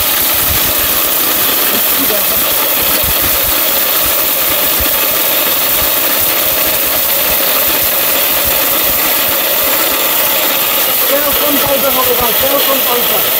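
A 1200-watt blender with a 100% copper motor runs steadily and loudly at high speed, its dense whirring roar unbroken throughout, with a faint rattle near the end.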